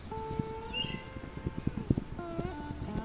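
Horse hooves clip-clop in a video game, a steady run of soft knocks mixed with a tonal music bed and a brief whinny-like sound.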